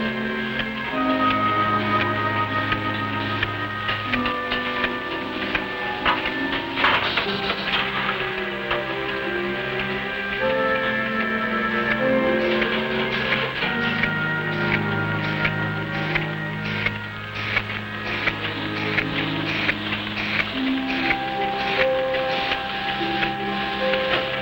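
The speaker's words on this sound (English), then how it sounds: "This machine places empty capsules into a circular metal disc." A mid-century capsule encapsulating machine fills Nutrilite supplement capsules, a continuous clattering, ticking mechanical rhythm with steady tones running throughout at a constant level.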